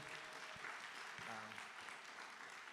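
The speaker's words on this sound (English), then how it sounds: "maybe we could give them a round of applause" Scattered applause from a crowd, a steady patter of clapping with faint voices murmuring underneath.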